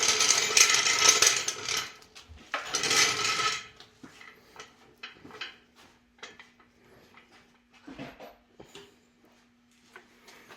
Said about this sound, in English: Lance is jacking it up right here